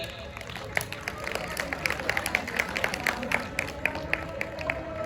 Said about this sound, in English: Applause to our students sitting down.